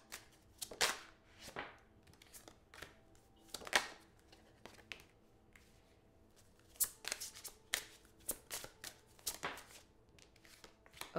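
Tarot cards are shuffled close up in quick riffling, slapping bursts separated by short pauses, repeating many times in the quiet.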